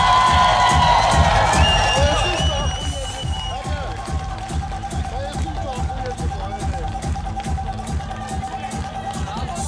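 Crowd at a women's 60 kg wrestling bout cheers and applauds, loud at first then settling into a steady roar with shouts mixed in, while a coach's voice calls out over it.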